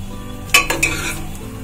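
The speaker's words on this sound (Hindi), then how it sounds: "अब इसमें डालूंगी मैं थोड़े से खड़े मसाले।" Whole spices, cardamom, black peppercorns, bay leaves and cloves, drop into hot mustard oil in a pan, giving a few quick clinks and rattles followed by a short sizzle.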